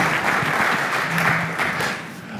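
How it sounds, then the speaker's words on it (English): A conference audience applauds the panelists at a hardware discussion session, a dense, steady wash of clapping from many hands that holds throughout, fairly close and loud, with no talking over it. "Could we have a quick round of applause for the panelists?"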